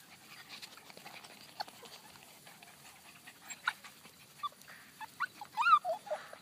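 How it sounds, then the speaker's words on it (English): Cocker Spaniel mix puppies whimpering, yipping and panting close by, faint at first, with short high whines growing more frequent and louder toward the end. "Little Cocker Spaniel mix puppies."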